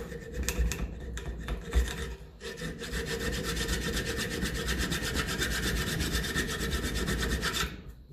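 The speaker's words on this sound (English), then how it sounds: "Just file off any burrs there that might make it harder to remove." Metal file scraping burrs off a part on a 1954 Ferguson TE20 diesel tractor, rapid rhythmic rasping strokes up close, a few separate rubs first and then a fast steady run, no talk.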